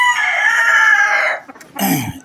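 A rooster crows loudly and close by, one long drawn-out call, followed by a brief clucking burst.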